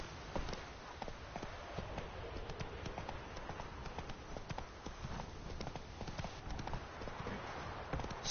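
Horse hooves clip-clop rapidly and evenly at a running gait on the road in the video game The Witcher 3, with steady rhythmic beats over a faint background bed.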